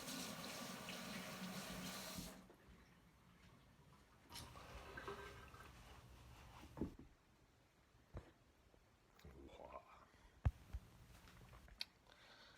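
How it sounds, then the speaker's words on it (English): A kitchen tap runs as hands are washed, a steady rush of water for the first couple of seconds, then quieter splashes and scattered clatters, faint and close. "Let me wash my hand real quick."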